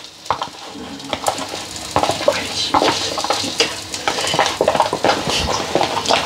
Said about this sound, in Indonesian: Saya goreng seperti ini, jadi ini tepung terus saya goreng